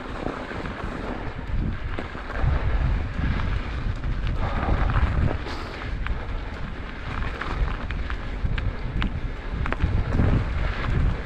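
Cold north headwind buffets the microphone on a winter mountain bike ride over cold packed snow, a steady low rumbling roar with gusty surges throughout, close and constant, no voices.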